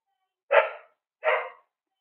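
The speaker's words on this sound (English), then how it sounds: "I apologize if you hear my dogs barking" Two sharp dog barks, close by and fairly loud, separated by a short pause, with silence around them.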